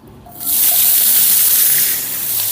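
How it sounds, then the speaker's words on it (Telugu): Okra pieces dropped into hot oil set off a loud, steady, hissing sizzle that surges up after a brief moment and keeps going evenly, close by, with no talking. "ఇప్పుడు ఈ బెండకాయ ముక్కల్ని ఒక రెండు నిమిషాలు ఈ ఆయిల్లో ఫ్రై చేసుకుందాం"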